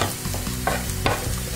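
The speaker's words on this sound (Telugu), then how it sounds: "ఇలా ఎర్రగా ఫ్రై చేసుకోవాలి." Chilli chicken ingredients, chillies, garlic and curry leaves, fry in a pan while being stirred, giving a steady close sizzle broken by a few sharper scraping stirs.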